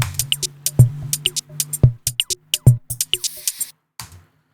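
Simple electronic drum loop from a sample pack: punchy kicks, snappy snares and crisp hi-hats in a steady, tight rhythm, played alone and up close for about four seconds before stopping.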